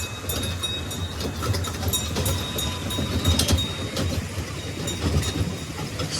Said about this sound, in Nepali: ट्रेन त फेरि फर्केर आइसकेको छ